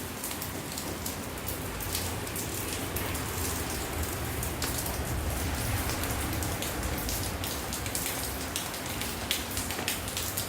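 Steady rain falls outdoors onto potted plants, a dense, even patter with scattered sharper drops hitting leaves and pots throughout, with no voices.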